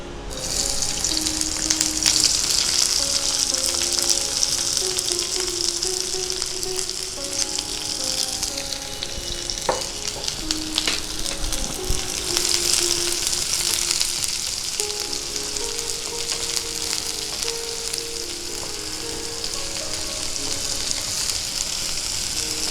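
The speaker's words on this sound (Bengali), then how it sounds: "এবার পেঁয়াজ কুচিটা দিয়ে দিচ্ছি।" Chopped onion fries in mustard oil in a wok for a Bengali prawn dish, giving a loud, steady, close sizzle that lasts throughout, with faint tonal sounds in the background.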